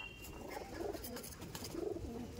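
Pigeons coo in a loft, soft, rolling low calls repeating in two or three swells over a faint background hiss, with no talk.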